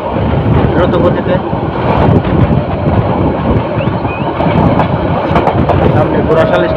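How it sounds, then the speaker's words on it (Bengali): Chottola Express, a Dhaka to Chittagong train, racing past Ghorashal flag station with a steady loud roar of wheels and rushing wind, faint rhythmic clatter under the dense noise throughout. "ঘোড়াশাল ফ্লাগ স্টেশন ক্রস করে যাচ্ছে দ্রুত গতিতে"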